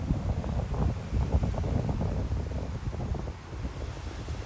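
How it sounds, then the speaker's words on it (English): Steady wind roars across an open disc golf course during a tournament playoff, a continuous low buffeting rush with gusty swells and no voices. "This wind, you can hear it."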